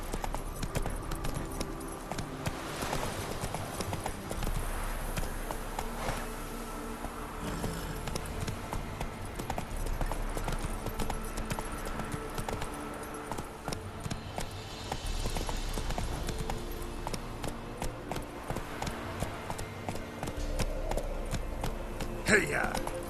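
Galloping hooves from Roach, the horse in The Witcher 3, repeat at a fast rhythm throughout over a music and ambience bed, with speech in places.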